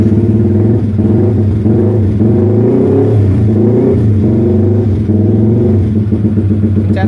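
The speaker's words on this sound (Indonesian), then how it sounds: "terus kita gas sampai RPM yang kita kasih limiter tadi" Car engine held at a launch-control RPM limiter, a loud, steady buzzing drone with rapid stuttering pulses from the limiter cutting in, running continuously with no talk over it.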